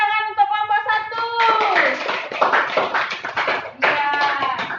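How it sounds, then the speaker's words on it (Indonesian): A classroom group claps together for a team of pupils, the quick, dense clapping swelling after a brief spoken call and running on with children's voices mixed in. "Beri tepuk tangan untuk kelompok 1."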